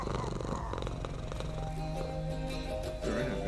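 Soft, low cat purring in the video game Hades 2, a steady rumbling hum lasting a few seconds alongside faint game music.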